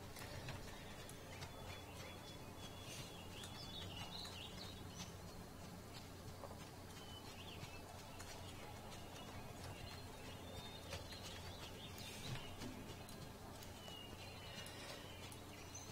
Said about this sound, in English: Just the nice sound of birds tweeting.